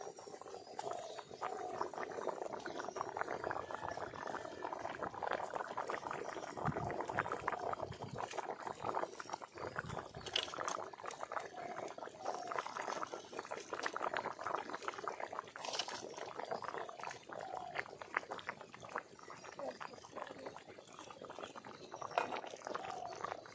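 Potatoes and rupchanda fish simmer in a pot of water, giving a steady, dense bubbling and seething hiss that carries evenly throughout at close range, with no voices.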